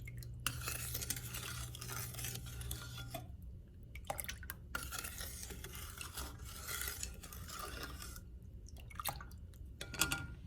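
Milk and sugar stirred in a pot for a sweet bread roll dessert: a steady spoon scraping and swishing close by, running continuously with brief gaps and a faint hum under it.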